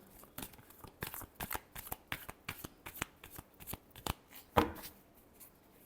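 Tarot cards are shuffled by hand in a close, crisp sequence of riffling slaps and flicks, uneven in rhythm and heard alone without speech.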